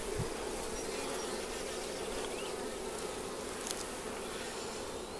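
Honey bees at a newly established beehive produce a dense, steady buzz of many insects close by, continuous and fairly loud throughout with no voices.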